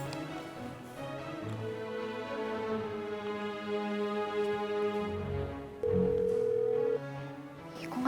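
A phone rings unanswered during a call: a repeating ring tone, with a louder steady tone near the end, over continuous background music, with no talking.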